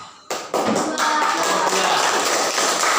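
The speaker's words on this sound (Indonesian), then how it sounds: "Aplaus untuk kelompok" Applause from a sixth-grade class at SD Muhammadiyah Kalikalong, breaking out for a presenting school group: a sharp start, then dense, steady clapping that fills the remaining seconds.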